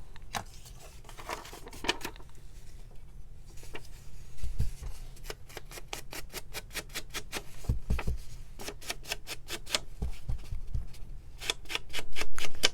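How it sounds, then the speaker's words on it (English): An ink pad is dabbed repeatedly against a paper envelope, producing quick bursts of dry patting and scuffing taps in rapid runs with brief pauses, close and quiet, with no speech. "let's go ahead and ink up this envelope a little bit"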